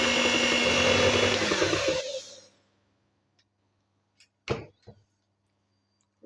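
Coconut milk and fresh milk are whirred in an electric mixer for a Brazilian-style corn cake, a loud steady buzz that cuts off after two seconds and is followed by a few quiet clacks.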